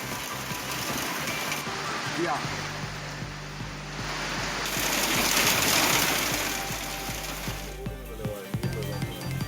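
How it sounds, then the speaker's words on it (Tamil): Heavy rain pouring down during a downpour in Madurai, a steady dense wash of noise with water rushing, continuous and fairly loud, with faint voices and a low hum in the background. "போன்ற பகுதிகளில் கனமழை பெய்தது"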